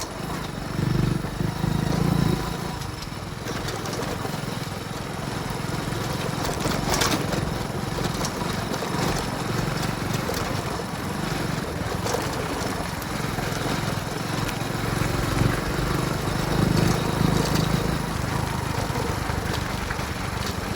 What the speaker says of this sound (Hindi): तो आप लोगों को इसकी सैर कराते हैं हम मोटरसाइकिल द्वारा